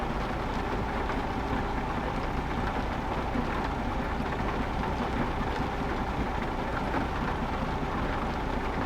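Steady, dense rain pours without pause in Euro Truck Simulator 2, a broad hiss with low rumbling thunder underneath.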